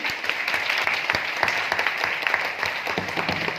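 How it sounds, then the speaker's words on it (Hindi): An audience at a leadership training camp in Agra claps loudly and continuously for several seconds, a dense, steady wash of applause close by. "जोरदार ताली मारिए अपने लिए"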